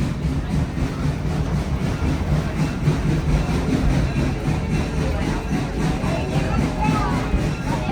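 A heavy locomotive engine drones and rumbles steadily at the Rollag 2024 show, a low throbbing mechanical hum, with people's voices talking over it.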